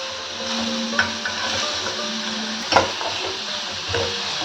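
Chopped white watermelon rind drops into a frying pan where onions are cooking, raising a steady close sizzle with a few soft stirring scrapes and light clicks.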